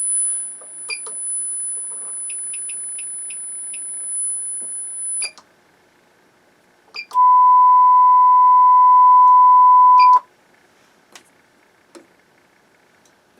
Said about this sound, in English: Let's try some tones.